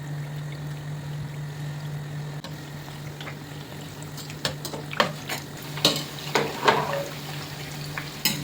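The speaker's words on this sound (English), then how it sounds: "And gently fry in hot oil until golden and crispy on both sides." Bread coated in gram flour batter frying in hot oil, a soft bubbling sizzle under a low steady hum, with louder spatters and utensil clatter toward the end, no talk.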